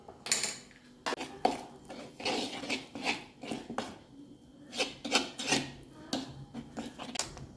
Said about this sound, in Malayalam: അല്പം ടേബിൾ സ്പൂൺ റവ കൂടിയിട്ട് ഒന്നുകൂടി മിക്സ് ചെയ്യാം